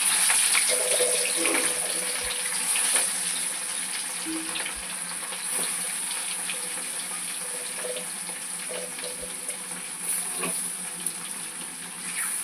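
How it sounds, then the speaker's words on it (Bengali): Fish frying in a pan in a home kitchen during cooking for guests gives a steady, bright hiss that runs unbroken throughout, with faint kitchen clatter and no talking. "এদিকে মাছ ভাজাটা অর্ধেক হয়ে এসছে।"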